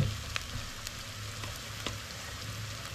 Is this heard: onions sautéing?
yes